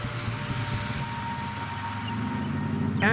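A Spitfire's piston aero engine drones steadily and loudly through a landing circuit, a continuous rumbling roar with no break in power.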